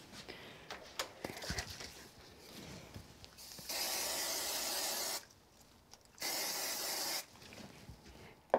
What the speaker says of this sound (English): I'm just going to use a little bit of spray glue on the back of this